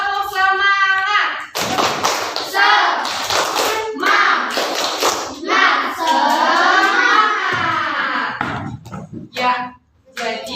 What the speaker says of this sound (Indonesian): Ya, tepuk semangat dulu.